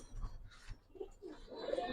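A checker ice bar pigeon gives soft, low cooing in a few short bursts, faint and close, with some background noise and no talk.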